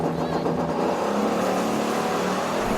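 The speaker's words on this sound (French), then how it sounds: "il fait maintenant tourner le moteur pour charger les batteries" SUV engine revving hard at a drag race, a loud, steady roar filling the whole clip with no break, close to the microphone.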